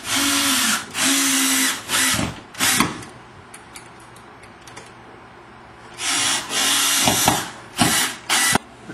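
A power drill driving screws to hang drywall, loud close whirring bursts of about a second each with short ratcheting stops, a quieter pause with faint clicks in the middle, then several more bursts.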